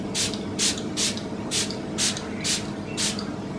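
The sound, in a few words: spraying Smashbox Photo Finish primer water spray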